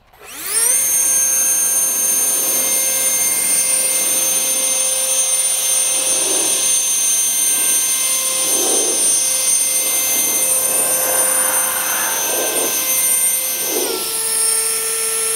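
A WORX Nitro 40V LeafJet cordless leaf blower drying a rinsed Stelvio with its nozzle pulled all the way in gives a loud, steady high-pitched whine that holds evenly close by and dips slightly at the end, with no talk over it.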